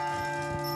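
A large bronze carillon bell weighing 1500 kilos rings with a sustained, rich metallic tone full of steady overtones, close and continuous throughout.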